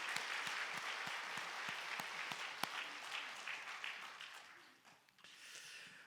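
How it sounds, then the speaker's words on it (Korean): A church congregation applauds the choir at a Sunday worship service, with steady, sustained clapping from many hands that fills the room and then thins out and fades near the end. "우리 여러분 수고하신 우리 찬양대 박수해 주세요"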